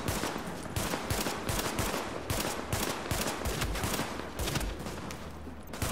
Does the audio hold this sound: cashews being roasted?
no